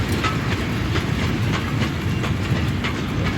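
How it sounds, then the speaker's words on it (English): Loaded freight train of stone wagons rolling into a yard, a steady near rumble with rhythmic clickety-clack of wheels over rail joints and a faint hiss throughout. "The train enters the yard and the engine disconnects and heads onto the turntable"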